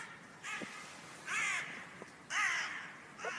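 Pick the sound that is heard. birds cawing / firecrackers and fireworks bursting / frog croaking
birds cawing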